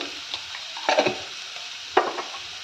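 Vegetables for egg fried rice frying in a pan with salt and turmeric: a soft continuous sizzle with a couple of short stirring scrapes and clinks, close and unaccompanied by talk.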